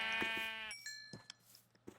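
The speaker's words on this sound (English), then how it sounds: "And there's sheep, right when it becomes daytime." Sheep in a modded Minecraft survival game let out one clear synthetic bleat, followed by faint game sound effects and small clicks.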